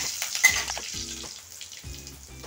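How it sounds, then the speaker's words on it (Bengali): Cumin seeds and bay leaves crackling in hot oil, a brisk close sizzle that is strongest at first and eases into a steady, quieter hiss. "এই তেলে জিরা তেজপাতা দিয়ে দিলাম।"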